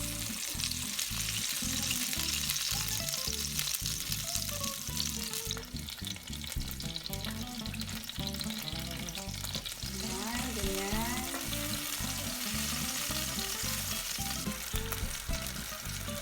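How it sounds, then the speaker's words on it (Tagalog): Tomatoes and garlic sizzle steadily in a pan as the base for a seafood pasta sauce. The loud, continuous frying hiss runs under faint tonal background music, with no talking. "Lutuin ng konti yung kamatis"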